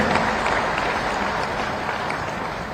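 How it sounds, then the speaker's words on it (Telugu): An audience claps loudly at a political meeting, a thick, continuous wash of many hands applauding at steady volume throughout. "ఇలా నమ్మిన వాళ్ళు గట్టిగా చప్పట్లు కొట్టండి"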